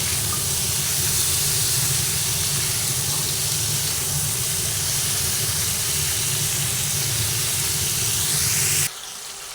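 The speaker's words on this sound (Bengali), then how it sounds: "এই সময় গ্যাসের ফ্লেমটা আমি মিডিয়ামে রেখেছি রেখে কুমড়োটাকে আমি ভেজে নিচ্ছি" Pumpkin fries in a pan over a medium gas flame, a loud, continuous broad sizzle that holds steady before dropping away abruptly near the end.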